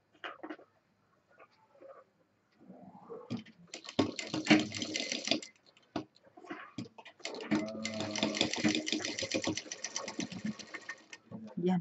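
A sewing machine stitches a homemade cotton cloth tag in two close bursts of rapid, even needle chatter, with brief quiet handling sounds and a voice talking in between.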